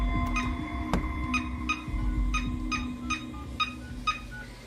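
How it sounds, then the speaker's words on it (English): A telephone being dialed, a series of about ten short evenly paced DTMF tone beeps over a steady low hum, with no voices. "That's someone dialing."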